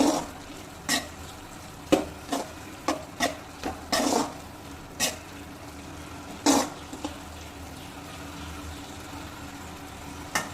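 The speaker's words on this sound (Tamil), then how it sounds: "இப்போ இந்த மசாலாலாம் பச்சை வாசம் போகிற அளவுக்கு நல்லா கிண்டி எடுத்துக்கலாம்" Masala being stirred and sautéed in a pan for bitter gourd poriyal, with sharp scattered scrapes and knocks of the spoon over a soft frying hiss, fairly close and intermittent.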